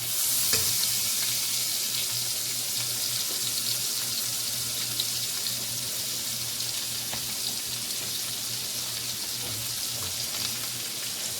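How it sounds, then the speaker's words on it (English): Onion fries in bacon grease on a stove top, giving a loud, continuous hiss and crackle throughout. No one speaks. "I'm going to go ahead and add in my onion and turn my stove down some"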